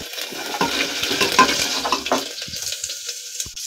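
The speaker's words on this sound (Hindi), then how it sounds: "अब मैं इसमें लहसुन डाल दूंगी।" Garlic fries in a pan of hot oil already seasoned with a pinch of asafoetida and crackled cumin, giving a steady close sizzle broken by scraping stirs, with no voices.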